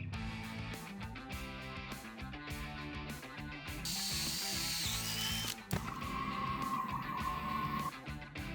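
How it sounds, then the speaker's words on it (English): A power drill bores mounting holes in forged steel tabs, with stuttering motor pulses followed by a sustained high whine as the bit cuts. The sound then shifts to a steadier grinding drone. "we need to mark out and drill the holes for our mounting to the handle"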